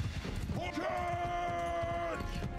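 Horse archers' hooves thud in a steady gallop in the medieval battle game Mount & Blade II: Bannerlord. The hoofbeats run low in the mix under a drawn-out voiced call and battle noise.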